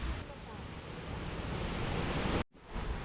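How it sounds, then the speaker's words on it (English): A broad waterfall in Kuldiga, Latvia, roars with rushing water as a steady, loud wash of noise, briefly cutting out near the end before resuming. "And here you can see the waterfall."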